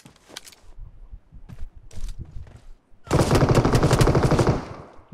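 Video game gunfire in BGMI, with scattered single shots and short bursts early on, then a dense, loud, sustained automatic burst for about a second and a half, with no voices.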